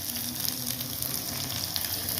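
Garlic browns in hot oil for a curd tempering, giving a dense, continuous close sizzle with fine crackling and no voices.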